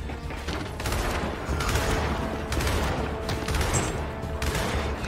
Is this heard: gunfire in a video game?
yes